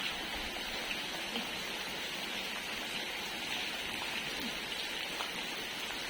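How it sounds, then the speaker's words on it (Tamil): Heavy rain falls steadily during Cyclone Ditwah, a dense, continuous hiss of downpour on surfaces in a residential area, with no talk over it. "அப்டேட் கொடுக்கணும்ல மழை எப்படி பெஞ்சிட்ருக்கேன்ட்டு"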